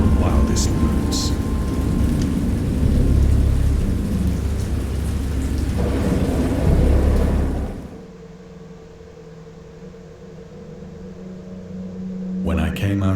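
Thunderstorm in the Dagon game: heavy rain and rolling thunder roar loud and close for about eight seconds, then fade to a quieter hiss with a faint low rumble, swelling again briefly at the end.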